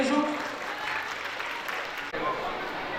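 Audience applause welcoming guests at a primary school annual function in Amreli, a sustained wash of clapping from a crowd with a brief dip near the end and some voices mixed in.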